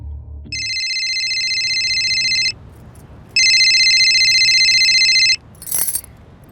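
A telephone ringtone rings in two long electronic bursts with a short gap between them, bright and insistent over a low background hum, followed by a brief clink.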